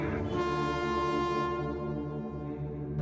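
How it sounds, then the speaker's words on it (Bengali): A cartoon train sounds a long, loud, steady horn blast as it approaches, the tone holding for about three seconds with no talk over it. "তখনই সামনে থেকে রেল আসার আওয়াজ শুনতে পাওয়া যায়।"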